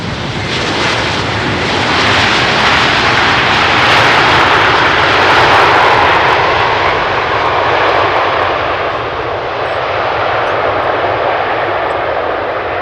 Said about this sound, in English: The 777-200 KLM flight 644. Coming in from New York JFK, it's a 200ER,